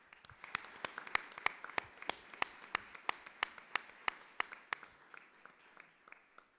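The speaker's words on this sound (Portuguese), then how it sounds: "eu vou pedir a todos os presentes uma grande salva de palmas" Sparse, scattered clapping from a small audience at a school reading contest, individual sharp claps in an uneven, rhythmic stream, fairly faint and fading toward the end.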